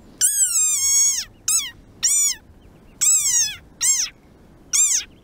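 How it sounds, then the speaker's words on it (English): Shrill, rising-and-falling squeaks from an angry desert rain frog come in six separate bursts, loud and close, each a piercing nasal cry with brief silences between. "this is the sonorous war cry of a very angry frog"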